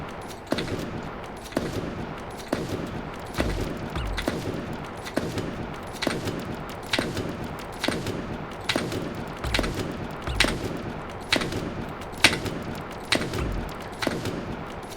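Gunfire in Super Animal Royale, a steady series of sharp shots fired roughly every half second to a second, loud and close, continuing evenly throughout.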